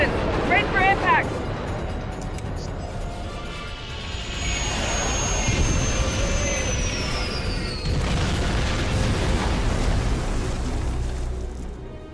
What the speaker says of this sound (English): Get us on the ground, Commander. Crash position. Ready for impact.